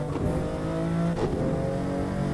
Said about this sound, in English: Oh yeah, the induction noise is beautiful.